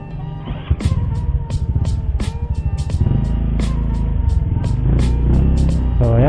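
An Easyride 150N motorcycle fitted with an Exos X6 open pipe runs close by, its loud engine throbbing with a pulsing exhaust and a few revs rising and falling; a voice is faintly audible.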